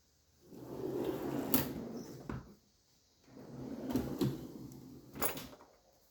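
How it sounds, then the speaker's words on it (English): Heavy, wide drawers in a workshop tool chest slide open and shut twice, each rolling rumble ending in a sharp metallic clunk, close and loud with quiet pauses between. "These drawers are so heavy,"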